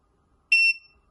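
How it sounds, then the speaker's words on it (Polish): A Proxima NM1 radio receiver emits a single short, clean electronic beep during remote programming, loud and close in otherwise silent surroundings. "będę je trzymał wciśnięte do momentu, kiedy z radiobiornika usłyszę podwójny sygnał"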